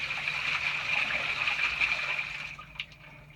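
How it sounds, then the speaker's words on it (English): Toilet flushing in a second bathroom during a house plumbing inspection, a steady rushing and gurgling of water at close range that tapers off into trickling after a few seconds. "Go to the second bathroom and flush that toilet."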